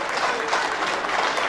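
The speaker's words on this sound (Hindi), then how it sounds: "अगर आप तालियां नहीं बजाएंगे तो मजा नहीं आएगा।" Audience applause at an annual paint-company award ceremony, a steady, dense wash of clapping from a crowd, moderately loud and continuous throughout.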